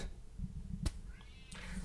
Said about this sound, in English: I don't know if you can hear my cat in the background, but he's meowing like crazy